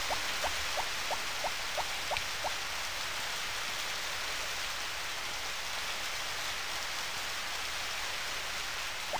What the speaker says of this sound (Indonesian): Pas banget posisinya hujan, aku tidak menyiram.